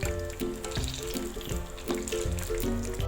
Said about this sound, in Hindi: पोटैटो स्टिक्स बहुत अच्छी सी फ्राई हो गई हैं